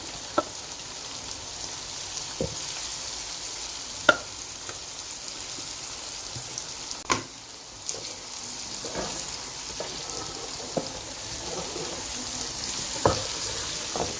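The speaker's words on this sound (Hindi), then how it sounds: "अब इसमें मैं भिंडियाँ ऐड करती हूँ।" Okra fries in masala at low volume, a soft steady sizzle broken by scattered light pops and clicks of the spatula against the pan.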